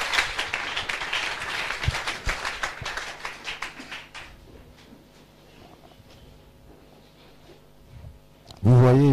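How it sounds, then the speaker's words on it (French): A church congregation claps for the Lord during a French and English worship service, dense rhythmic applause filling the first half before thinning out, with a loud burst of sound at the very end. "Clap for the Lord."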